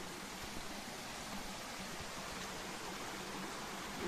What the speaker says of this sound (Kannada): ನೋಡಿ ನೀರು ಬರ್ತಾ ಉಂಟು